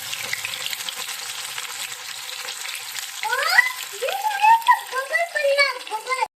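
Fish frying in hot oil in a home kitchen, a steady sizzle broken by sharp, rapid popping and spattering that grows busier toward the end, with a voice and other faint speech mixed in.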